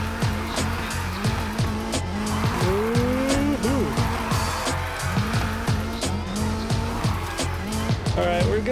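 A Nissan 350Z drifts in the racing game Need for Speed Heat, with repeated sharp tire squeals and rising and falling engine revs, loud and continuous, with talk over the top.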